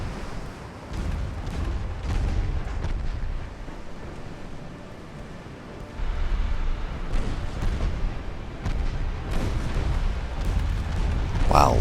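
Heavy naval cannon fire from battleships and destroyers in Ultimate Admiral: Dreadnoughts booms and rumbles steadily, swelling louder midway, with someone talking over the barrage.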